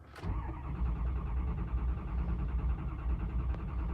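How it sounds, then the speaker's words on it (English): A Ford 6.0 Powerstroke diesel engine cranks steadily without catching, a continuous near, loud churning rumble that runs for a few seconds after a brief click at the start. "I'll have to crank it for a while to get this to connect"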